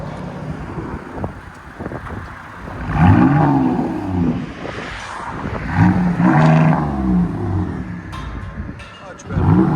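A 2018 Jeep Grand Cherokee with a 3.6L V6 and Big Boz resonators revs hard toward its limiter, a loud, rasping engine roar that swells in two main bursts, with wind buffeting and someone talking between pulls.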